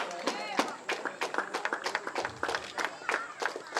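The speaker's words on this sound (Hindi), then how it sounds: "जोरदार ताली बजाकर स्वागत करेंगे" Clapping from a crowd greeting a guest at a village kabaddi tournament in Arjuni, Balod, Chhattisgarh, a dense run of irregular claps under an announcer's voice on a loudspeaker.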